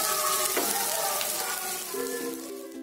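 Eggplant and spices fry in oil in a pan for ennegai badanekai, giving a loud, continuous sizzle close by, with a brief stirring clatter partway through.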